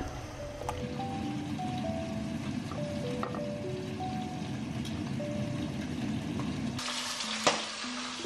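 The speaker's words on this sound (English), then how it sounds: "I'm gonna cook them in the soup" Greens cook in a pot of soup with a continuous soft hiss and bubbling at moderate distance, turning brighter and louder near the end with a sharp clatter.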